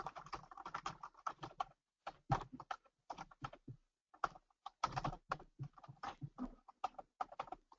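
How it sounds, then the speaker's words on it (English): Rapid keyboard typing in uneven bursts with short pauses, close and fairly clear, no voices. "I apologize if my keyboard is loud"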